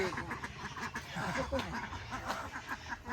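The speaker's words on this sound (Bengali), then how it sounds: "হাঁসগুলো খুব সুন্দর হয়েছে" Several ducks quack repeatedly nearby, a busy overlapping chatter of calls with a voice faintly mixed in.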